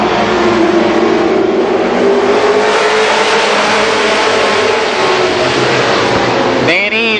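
Race cars roar around Columbus Motor Speedway during a 1990 Superstar Shootout, a loud continuous engine drone through the clip with a sharp passing whine near the end, with an announcer's voice over it.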